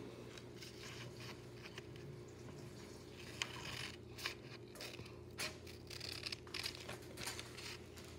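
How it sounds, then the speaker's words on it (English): Scissors snip through fabric while cutting out a handmade toy horse blanket, faint close crunching and crinkling cuts in irregular bursts, mostly in the second half, over a low steady background hum. "you're gonna take your scissors and cut out your thing."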